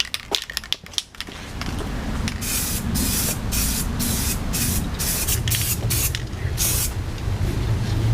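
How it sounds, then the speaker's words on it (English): A steady hiss of black spray paint onto a small metal motorcycle bracket runs for several seconds, preceded by a few quick clicks and rattles as the can is handled. "we hit this with some spray paint"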